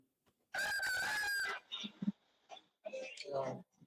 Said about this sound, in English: that's a chicken noise behind you